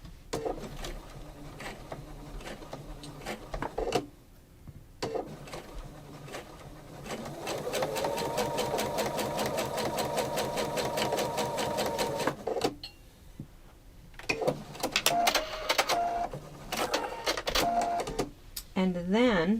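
A sewing machine stitches a scant quarter-inch quilting seam in a steady, rapid mechanical whir lasting about five seconds, with a voice talking before and after and shorter machine bursts at the end.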